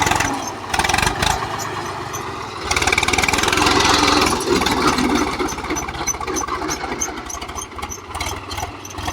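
A tractor engine that has overheated and is being fixed runs nearby with a steady rhythmic chug and a louder, rougher stretch partway through, with no talk.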